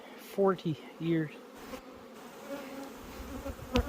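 Honey bees return heavily laden to the hive during a September goldenrod nectar flow, buzzing close by in brief loud passes over a faint background drone of the colony.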